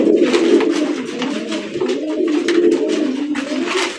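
A flock of Giribaj pigeons coos in a continuous, overlapping low burble, close and loud, with soft wing flutters and rustles scattered throughout.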